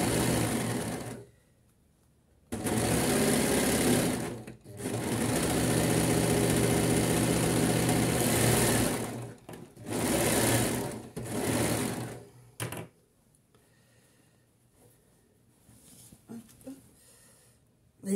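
Domestic sewing machine stitching a shirt made from a Café Cousettes Marin pattern, loud close motor whirr in several sustained runs of a few seconds each, with pauses between them and quieter handling sounds at the end.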